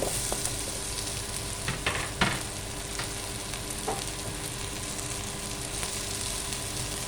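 Vegetables and potatoes fry in a pan for vegetable pulao, with a steady, close sizzle and a few clicks of stirring throughout, no voices.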